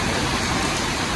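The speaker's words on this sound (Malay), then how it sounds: "keadaan hujan lebat kat sini" Heavy rain pours steadily at a ferry jetty on Tioman, a dense, even hiss that fills the air without pause and stays constant throughout.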